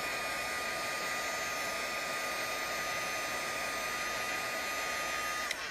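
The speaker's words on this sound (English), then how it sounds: "bring over our heat gun. Heat guns are hot, people." Heat gun for stamping and card crafting, running with a loud, steady, close whirring roar and a high whine that holds unchanged from start to finish, with no talk over it.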